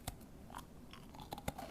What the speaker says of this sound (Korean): 버터 쿠키 먹어보도록 하겠습니다